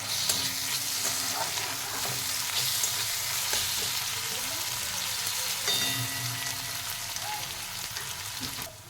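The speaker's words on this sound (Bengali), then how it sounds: "আদা রসুনটাও ভালো করে ভেজে নেব পেঁয়াজের সাথে।" Ginger-garlic paste frying with onions and chopped green chilli in a pan for chicken guniya, a steady close sizzle with stirring scrapes throughout, no talk.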